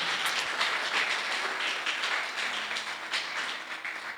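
A church congregation applauds the Lord after a prayer, a dense, steady wash of many hands clapping at once, with no voices standing out.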